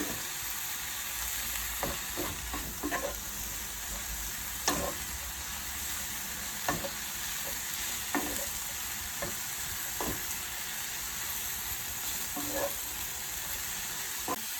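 Chard sautéing and wilting down in a pan with leftovers for a frittata, a steady soft sizzle and hiss under intermittent light stirring taps and scrapes, close and fairly quiet, without talking.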